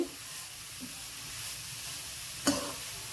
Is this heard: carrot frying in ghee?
yes